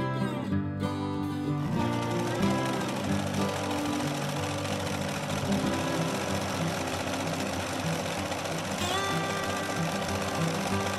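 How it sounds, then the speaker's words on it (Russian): A home sewing machine runs steadily, stitching together basted fabric pieces of a dog jumpsuit, its loud mechanical whir and rapid needle clatter continuing unbroken throughout with no voices. "а далее мне осталось их прострочить на швейной машине."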